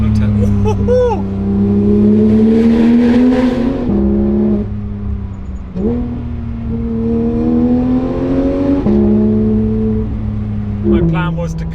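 A Porsche 911 GT3 RS engine revs hard inside a small tunnel, several loud rising and falling pulls with echoing crackles between them, very close and dominant.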